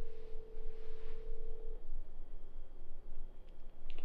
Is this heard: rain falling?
no